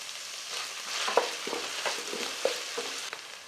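Tomatoes sauté in a pan with a steady sizzle while cooking chicken kuzhambu, broken now and then by the scrape of a spoon stirring.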